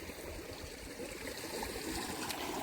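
Water runs and trickles steadily from a village washing place set among farm fields, a continuous close, fairly soft flow without any talking.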